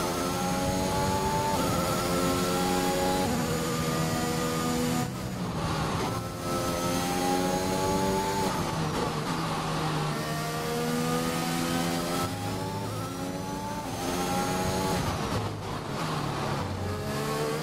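A Formula 1 race car engine in the F1 2021 game screams loud and steady close up, rising through the gears with repeated upshifts, then briefly dropping its pitch under braking before revving hard again.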